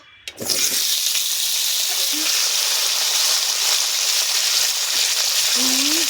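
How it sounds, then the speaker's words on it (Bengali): Potato pieces go into hot oil for frying until reddish-brown, raising a sudden, loud, steady sizzle that carries on close by, with faint clinks of a utensil. "এবারে আলুটা ভেজে নেব লাল লাল করে আলু দিয়ে দেবো"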